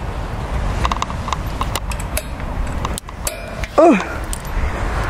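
Horse hooves clip-clop on a yard surface while a horse is brought out from a stable, rhythmic and fairly near, with a brief whinny-like call near the end.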